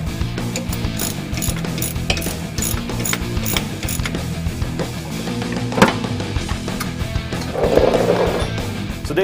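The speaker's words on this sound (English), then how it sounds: "using a 15mm deep socket to remove this end link nut" A ratchet turning a 15mm deep socket loosens the sway bar end link nuts on a Ford Mustang. It makes rapid, loud, close clicking in steady runs, with a brief heavier clunk partway through.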